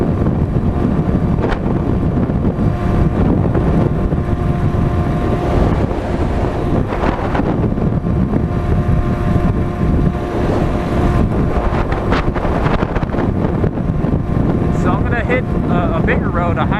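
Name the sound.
Sur Ron Light Bee electric dirt bike at full throttle, wind noise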